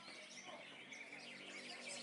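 Many caged songbirds chirp and trill at once at a bird singing contest in Kalimantan, a dense, busy chorus of overlapping calls with no clear gaps, moderately faint.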